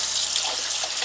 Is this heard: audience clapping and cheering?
no